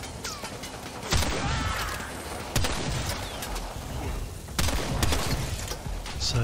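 Gunfire against enemies in the shooter game Warframe: sharp weapon blasts hit at roughly regular intervals under a busy bed of mechanical game noise and crashing effects, moderately loud and close.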